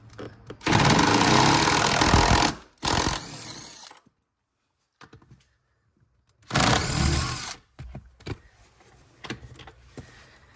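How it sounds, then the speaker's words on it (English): Two loud bursts of an impact drill whirring as it removes 14mm bolts, each lasting about two seconds and separated by a pause, with faint clicks and handling noise in between. "I'm just going to use this impact drill them out."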